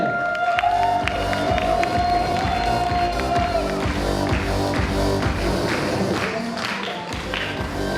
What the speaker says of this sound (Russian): Еще раз громкие аплодисменты